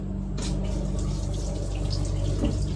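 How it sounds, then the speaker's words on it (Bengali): Water runs steadily from the tap of a small wash basin in a train washroom on the Howrah–Puri Superfast Express, a continuous hiss over the low rumble of the moving carriage. "এখানে একটা ওয়াশ বেসিন আছে, দেখি জল আছে কিনা।"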